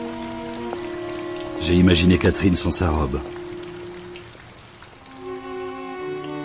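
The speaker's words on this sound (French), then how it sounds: "Ça m'a énormément plu, cette pluie d'été." Summer rain patters steadily on surfaces, a soft continuous hiss running under someone speaking French.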